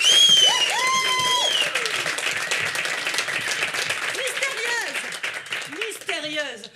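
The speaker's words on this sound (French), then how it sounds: "On applaudit bien fort." An audience claps loudly and steadily at an outdoor cabaret show, the applause fading a little over several seconds while voices call out above it.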